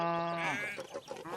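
A sheep on Farmer McColl's farm lets out a single clear, drawn-out bleat, close and loud, heard on its own with no other sounds around it.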